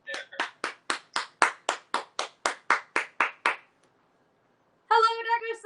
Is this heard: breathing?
no